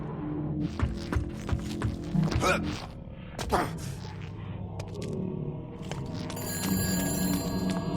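A telephone ringing in the video game Shadows of the Damned, a bright repeated electronic ring rising over game sounds and effects near the end.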